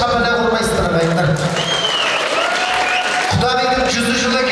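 Guests at a Kazakh wedding celebration clap for the bride's mother, a steady, dense applause filling the hall throughout while a voice speaks over it.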